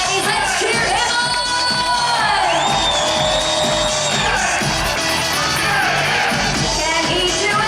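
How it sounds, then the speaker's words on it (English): A loud crowd cheers nonstop at a SeaWorld San Diego show, with high-pitched yells and whoops rising and falling over a constant roar of voices. "let's cheer him on"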